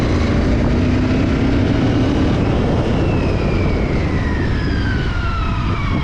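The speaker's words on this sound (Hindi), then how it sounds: "तो अब मैं आपको थोड़ा सा ना बाइक को रैव करके दिखाता हूँ।" A Royal Enfield Continental GT 650 motorcycle accelerates hard in third gear, its engine note climbing steadily under heavy wind rush, loud and continuous throughout.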